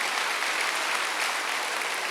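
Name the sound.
congregation applauding in church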